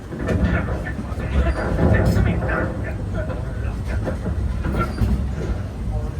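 A Walt Disney World Railroad 2-6-0 steam train rumbles steadily along the track, a dense low roar with faint rattling, while voices talk over it.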